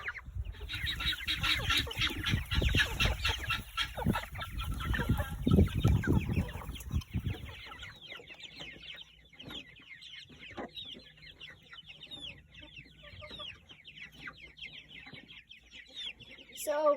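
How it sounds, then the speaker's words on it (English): Chickens in a backyard flock of hens and a rooster, including white leghorn and brown layers, cluck and squawk up close, busy and loud at first and then quieter with scattered calls. "He is a rooster, so he doesn't lay eggs."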